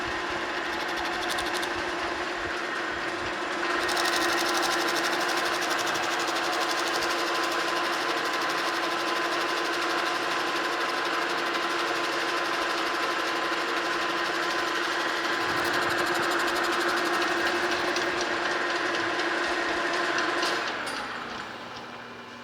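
A W. F. & John Barnes treadle lathe takes a coarse cut on a broken casting, giving a steady, close mechanical whir with a constant tone that runs for about twenty seconds before easing off near the end.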